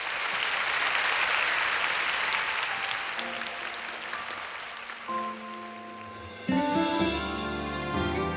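Audience at the Seoul International Drama Awards 2022 gives a broad, sustained round of applause for a crossover vocal group taking the stage. The clapping thins out over a few seconds as the group's music starts and takes over.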